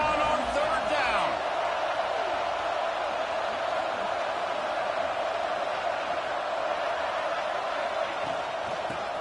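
Stadium crowd roaring and cheering at a college American football game between Purdue and Florida, a dense, steady wall of noise sustained throughout with a few whoops rising early on.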